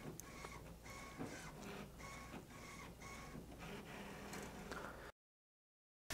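A Brother fabric printer runs a print job on fabric, giving a steady mechanical whir with regular rhythmic clicks and carriage pulses for about five seconds before cutting to silence. No one speaks.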